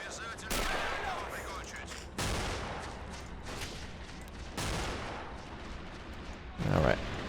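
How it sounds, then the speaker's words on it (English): Anti-tank rifle shots ring out in the World War II strategy game Men of War: Assault Squad 2, several loud, sharp reports a few seconds apart amid ongoing battlefield gunfire and rumble. "Looks like they have an AT rifle or something that they're shooting with."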